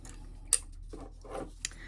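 Scissors clip into fabric on a sewn train case, two brief, crisp snips about a second apart, close but fairly quiet against a soft room background.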